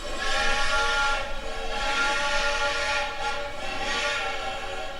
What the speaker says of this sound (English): You could hear the train whistle.